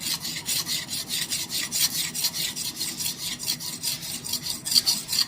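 A steel chisel is rubbed back and forth on a sharpening stone, a steady rhythmic rasping scrape repeating about three times a second, close and continuous.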